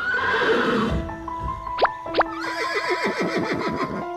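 An old, weak horse in an animated film neighs in two sharp whinnies, followed by a rapid run of bright wavering calls, loud and close with no talking.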